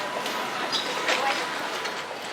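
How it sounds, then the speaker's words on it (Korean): Inside Madrid airport's shuttle train, a steady rolling rumble and rattle of the carriage runs throughout, with brief squeaks and muffled voices in the background. "여기는 또 기차 타고 또 다른 쪽으로 다른 건물로 넘어가네요"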